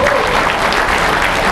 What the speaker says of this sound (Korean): 그 처절한 노력에 박수를 좀 보내주시기 바랍니다